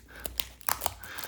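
Scissors snip and crinkle through the cellophane wrapper on a 1980s–90s baseball card pack, a few faint close cuts and rustles in quick succession, with no talk.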